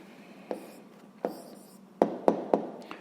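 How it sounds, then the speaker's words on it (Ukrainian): A pen writing down the answer to a sixth-grade maths volume exercise: a few soft, separate taps and short strokes, quiet and close, with brief pauses between them and no talk. "Ну що ж, записуємо відповідь."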